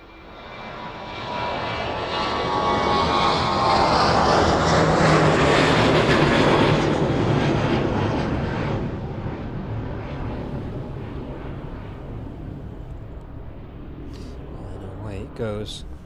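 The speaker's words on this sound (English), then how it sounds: "should see the Ryanair departing out into the sunset this evening from here at East Midlands" A Ryanair airliner departing East Midlands Airport at sunset, a loud swelling engine roar that peaks as it passes and then fades into a lingering rumble as it climbs away, with a few clicks near the end.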